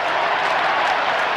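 A huge crowd at the 1993 AFL Grand Final between Essendon and Carlton applauds and roars in a steady, dense wall of sound with no break.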